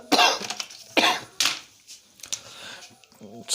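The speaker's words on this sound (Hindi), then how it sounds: "सर्दी लग गई, जुकाम होने की वजह से थोड़ी खांसी है" A person coughs several times in short bursts, hoarse from a cold, each cough loud and close, followed by quieter throat sounds.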